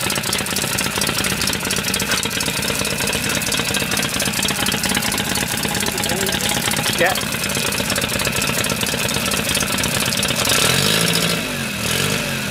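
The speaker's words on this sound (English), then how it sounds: "try boosters, try revving it and see if it's happy." A medium engine idles steadily and is briefly revved near the end in a wash kit and nose plug test, a continuous droning rumble with a short voice murmuring over it.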